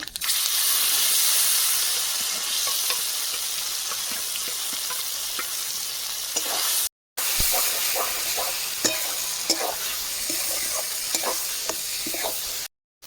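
Steady loud sizzling of chillies, black cumin and bean paste frying in hot oil, with crackles and pops throughout and a brief pause partway through.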